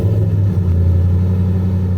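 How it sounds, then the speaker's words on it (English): A deep, steady rumble from a Toyota Tundra pickup's custom dual-tip exhaust idles close by, low and even, with no voices. "My RCSB Tundra came with a custom dual-tip exhaust,"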